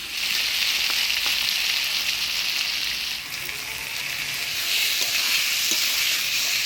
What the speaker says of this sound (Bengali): ভাজা মশলা দিয়ে কুয়াশটা ভালো করে নাড়াচাড়া করে নিলাম